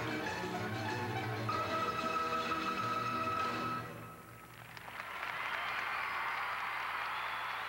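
A crowd applauds at a gymnastics display in an arena, with music and rhythmic clapping at first, then after a brief lull a broad wash of applause returns.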